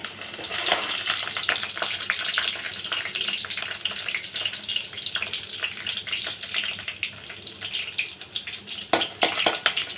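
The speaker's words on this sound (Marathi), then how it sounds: "तेल तापल्यानंतर आता आपण टाकूया लसूण सात ते आठ लसणाच्या पाकळ्या घेतलेल्या आहेत" Garlic cloves, seven or eight of them, sizzle in a couple of spoons of hot oil for a dried-fish curry, a steady bright crackle with scattered pops and a burst of louder spitting near the end.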